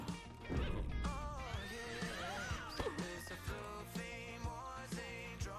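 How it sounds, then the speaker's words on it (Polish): A horse neighs in The Sims 4 ranch expansion, a long wavering whinny rising over game music with hoof clip-clops and bright musical accents. "Nauka jazdy na koniu, ujeżdżania konia."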